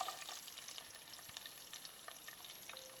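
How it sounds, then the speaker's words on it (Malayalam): About a dozen garlic cloves and fifteen sliced shallots sautéing in oil for an eggplant curry, a soft continuous sizzle with light stirring scrapes, fairly quiet and close, no talking. "ഇനി നമുക്കിത് നന്നായിട്ടൊന്ന് വഴറ്റിയെടുക്കാം."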